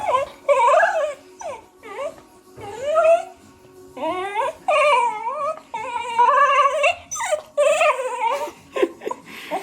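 A pet dog, a female, whimpers, yips and whines in repeated rising and falling bursts, close and fairly loud, with brief pauses between vocal runs.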